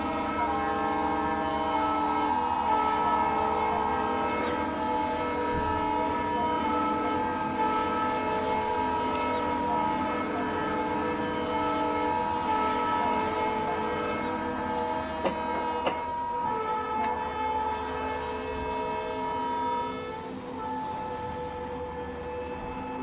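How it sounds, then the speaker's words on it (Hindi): A WDP 4D diesel locomotive in the Trainz Simulator game sounds a long, loud, steady horn over the rumble of the train pulling away, with no talk. "लंबा सा हॉर्न देता हूँ बस। Wi-Fi का हॉर्न भी सुन लो यहाँ पर"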